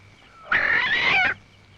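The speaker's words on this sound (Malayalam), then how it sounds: "നല്ല കോഴിയാ." A single chicken lets out one loud, close squawking cluck lasting under a second against a quiet background.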